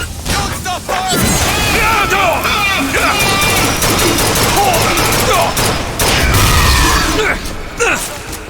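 Gunfire in the video game BioShock Infinite, a sustained battle of rapid shots and bursts with booms, heard continuously under shouting voices.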